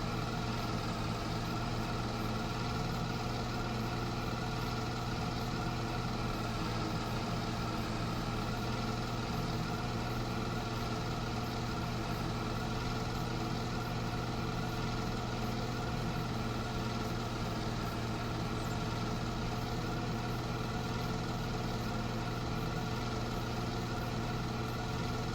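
A tractor engine idles steadily in Farming Simulator 25, a continuous low diesel drone with a constant rumble and no change in pitch, running unbroken with no talking.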